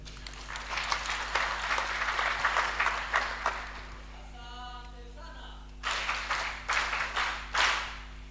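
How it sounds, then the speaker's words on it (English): Audience at a passing-out ceremony for an Intermediate Command and Staff Course claps in a few uneven bursts, separated by a brief pause with a tonal sound, against a steady low hum. "I think you can make the clap better."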